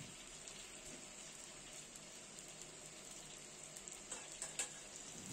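Chilies frying in a little cooking oil over medium heat, stirred in the pan; a steady, even sizzle holds throughout with a few louder crackles and pops near the end, and no talking.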